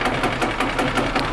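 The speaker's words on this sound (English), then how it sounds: "Hear how much faster the engine rolls over?" The engine of a 1995 Yamaha G14 gas golf cart cranks over on its starter generator, a loud close rapid rhythmic churning with steady pulses and no talk.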